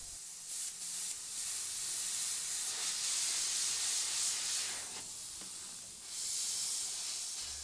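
An Iwata CM-SB Micron airbrush with a 0.18 mm needle and nozzle sprays paint onto a skull model in short, soft bursts of airy hiss, rising and easing repeatedly, close and fairly quiet.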